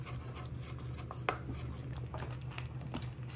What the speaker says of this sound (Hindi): कस्टर्ड डालते जाते हैं और मिक्स करते जाते हैं।